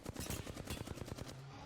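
Rapid automatic gunfire from the video game Apex Legends, a fast evenly spaced string of about a dozen loud shots in one short burst that stops abruptly.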